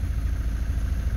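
A car with 206,000 miles and its check-engine and oil lights on runs at a rough idle, a low, uneven, lumpy engine throb that is brief and fairly close.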